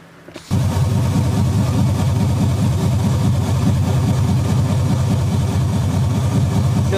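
LS-swapped Firebird V8 with open exhaust heard from the cockpit while driving: a loud, deep, steady engine rumble starts abruptly and drones on continuously.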